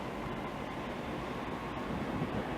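A Class 321 train rumbles at Bethnal Green station as it approaches, a broad, steady, moderately loud roar of wheels and motors filling the whole stretch without talk.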